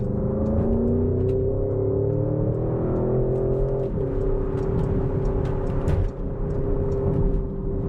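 A 2023 Porsche Cayenne Turbo GT drives and accelerates, its engine a loud, steady drone that climbs in pitch, briefly drops as a gear change comes near the middle, then keeps pulling under constant road and wind noise.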